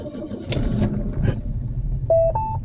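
A Volvo 244 engine cold starting: a low rumbling engine runs steadily and loud throughout, with brief higher whirring surges and a tonal whine near the end.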